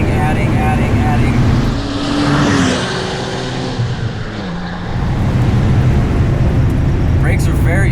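Modified Porsche 930 Turbo engine pulling hard under boost, a loud close rising engine tone with broadband rush that dips briefly mid-run and surges again, heard from inside the car while a voice talks over it.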